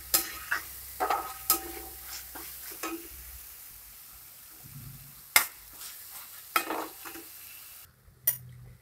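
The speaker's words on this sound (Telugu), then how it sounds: "మనం ఇప్పుడు రైస్ ని యాడ్ చేసుకుందాం" Cooked rice tipped into a pan of frying tomato egg masala with green chillies, turmeric and cumin powder, then stirred. Spoon scrapes and stirring knocks come in bursts over a soft sizzle, with a quiet pause in the middle.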